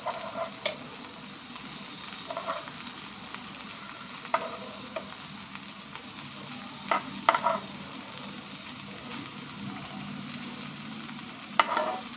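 Stuffed okra fries in a nonstick pan with a continuous, even sizzle, broken now and then by faint clicks and scrapes of stirring, with no voices.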